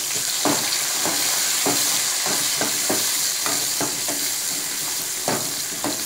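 Curry leaves sizzling and crackling in hot oil, close up and loud, with occasional stirring clicks breaking through the continuous frying hiss.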